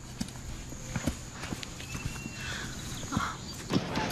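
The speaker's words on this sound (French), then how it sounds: "Tiens, prends cette jument et promène-la 15 minutes pour la calmer." A mare walked at a calm pace, her hooves striking the ground in a steady, close clip-clop rhythm of sharp individual knocks against a quiet background.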